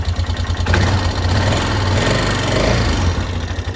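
The engine of a 2007 Can-Am Outlander ATV cranks and then runs with a loud, rough, uneven chugging, heard close up and continuously with no talking.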